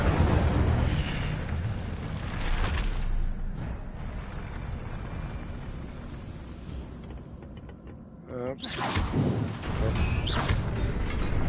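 Incendio fire spell cast in Hogwarts Legacy: roaring, crackling bursts of flame and rumbling game effects, loud at first, easing off, then a fresh fiery surge near the end.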